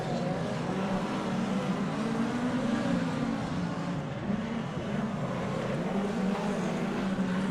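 Midget race cars roar continuously around Oceanview Speedway in a loud, steady engine drone that rises and falls slightly as the pack circles, with no voices.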